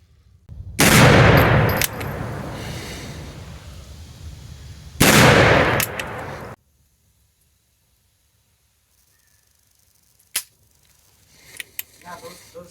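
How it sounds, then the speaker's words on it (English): Two loud, close black-powder shots from an Uberti 1847 Colt Walker revolver, each a sharp blast with a long rumbling roar, followed by quiet and a faint click. "we'll cap the pistol, we'll go all the way around, and then we'll just press check them to make sure they're tightly fitted. And we're now ready to shoot."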